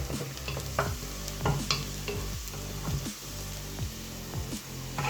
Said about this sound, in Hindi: इसमें हम सबसे पहले प्याज को लाइट ब्राउन करेंगे।